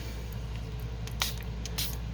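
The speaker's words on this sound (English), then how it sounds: "spray this down." Two short hissing bursts from a spray bottle of coffee dye onto rice paper, quick and close, over a faint steady hum.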